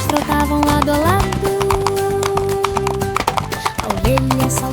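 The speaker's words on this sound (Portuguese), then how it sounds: "os cavalos trotavam lado a lado." Horses trot with clip-clopping hooves in a farmyard scene from a children's song. The steady hoofbeats sound beneath music and a sung voice.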